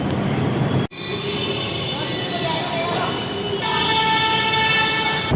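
Metro train at a station platform, a steady rumble of rolling cars and wheel noise with brief high squeals and a tonal whine after a short dropout, loud and close, with faint voices mixed in.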